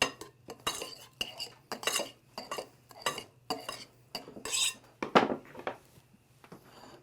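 A spoon scraping and clinking against a bowl while mixing a venison stuffing with olive oil, repeated close metallic strokes in an uneven rhythm over a faint background hum.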